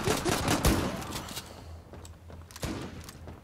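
Bursts of rapid gunfire in a shooter video game, close and loud at the start, then scattered shots and thuds fading further off, with a brief renewed burst near the end.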